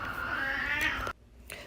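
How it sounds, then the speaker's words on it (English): Two cats fighting indoors, a loud sustained caterwauling yowl that cuts off abruptly, followed by quieter scuffling. "My cats were fighting."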